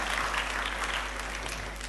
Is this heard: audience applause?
yes